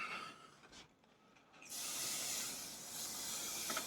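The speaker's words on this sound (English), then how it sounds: "Give that a little spray, give it a wipe over." A cleaning spray hisses onto plastic in a couple of short bursts, then a longer steady spray, close to the microphone with no talking.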